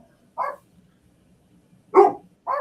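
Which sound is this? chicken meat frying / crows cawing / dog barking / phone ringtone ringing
dog barking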